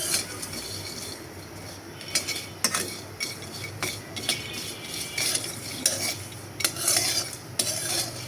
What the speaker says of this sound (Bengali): এখন শুটকিগুলো টেলে নিচ্ছি।